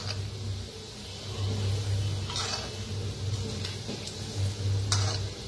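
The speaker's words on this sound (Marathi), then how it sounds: "तर आपण तळून घेऊया." Gulab jamun frying in hot oil, a soft continuous sizzle with occasional light clicks and stirring taps, close and fairly quiet.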